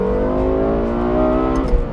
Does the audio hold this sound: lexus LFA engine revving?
yes